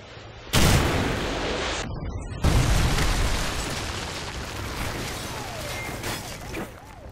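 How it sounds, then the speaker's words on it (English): A Predator missile strike in the video game Call of Duty: Modern Warfare 3 during a team deathmatch, with two loud, close booming blasts, the second rolling into a long sustained rumble of battle noise. "Friendly Predator missile inbound."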